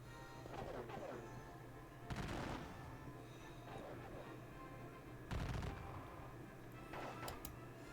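A battalion's volleys of gunfire in a Napoleonic-era battle video game, with several sharp bursts spaced a few seconds apart over a low steady background drone.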